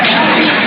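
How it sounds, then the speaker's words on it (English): An audience booing and grumbling in an old radio comedy, a dense, loud, band-limited crowd murmur that lasts briefly and holds steady throughout. "listen to those people booing"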